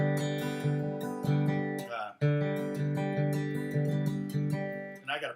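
Acoustic guitar playing a bluegrass triad pattern in a repeating 3-2-3-2-3 grouping, steady picked notes ringing close and clear for about five seconds with a brief break partway, no talking.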